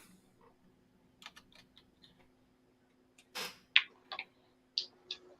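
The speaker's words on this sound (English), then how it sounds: "I'm typing up the wrong shit." Quiet, sparse taps on a computer keyboard, a few scattered keystrokes with short gaps in between, close by and soft.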